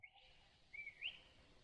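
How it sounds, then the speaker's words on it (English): Faint birdsong drifts from a forest beside a salmon stream: a few thin, high whistled notes rise out of a quiet, hissy background with no voices. "Birds are singing."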